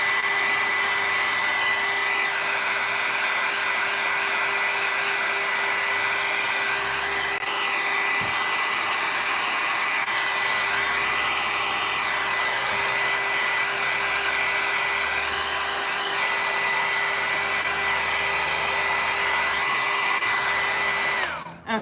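A hair dryer blows steadily on painted Halloween craft bottles, a loud continuous whooshing drone with a fixed whine that holds for about twenty seconds before cutting off abruptly at the end.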